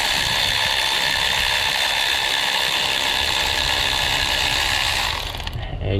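A hand ratchet clicking steadily as it turns bolts on a Jeep alternator, a fast continuous metallic pawl rattle up close that stops abruptly near the end.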